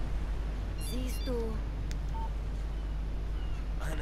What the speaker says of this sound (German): Eine SMS von Barry